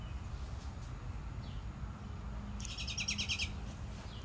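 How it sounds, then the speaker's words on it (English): Short bird chirps, a rapid burst of several high notes near the end, faint against steady low background rumble. "Can hear the bird chirp on that one."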